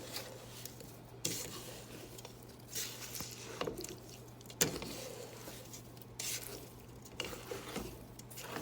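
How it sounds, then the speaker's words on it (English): Mixed fruit and sugar for marmalade stirred in a pot over low heat, soft wet squishing and scraping strokes repeating irregularly, quiet and close with no talking. "Just mixing this till our sugar starts to dissolve."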